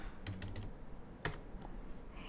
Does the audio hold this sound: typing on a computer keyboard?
yes